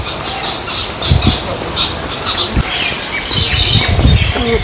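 Several birds squawk and screech in short bursts in a park aviary in Malda, with fluttering and rustling between calls, fairly close.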